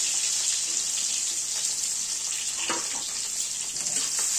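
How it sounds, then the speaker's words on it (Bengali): Black cumin, dried chilli, chopped garlic and onion tempering in hot oil in a kadai, a steady bright hiss and sizzle throughout, with a faint clink partway through and no talking. "এখানে কালো জিরে দিলাম, শুকনো লঙ্কা, রসুন কুচনো আর পেঁয়াজের ফোড়ন দিলাম।"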